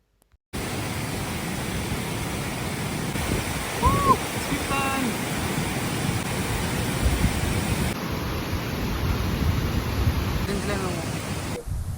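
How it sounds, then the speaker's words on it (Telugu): Loddha Waterfall near Salur roars as a steady broadband rush of falling water, continuous and moderately loud from start to finish after a brief silent opening. "ఇది లొద్ద వాటర్ ఫాల్ అండ్ బరి వాటర్ ఫాల్ కూడా అంటారు"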